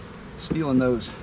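Honey bees around an open hive during an inspection, a brief close buzzing hum swelling and fading in about a second, with no voices.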